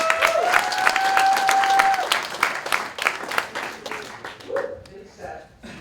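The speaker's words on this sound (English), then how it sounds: "big round of applause for Marieke." A conference audience at a WordPress business talk claps heartily for a few seconds, with a sustained voice or tone over the first part, then the applause thins into scattered claps and fades.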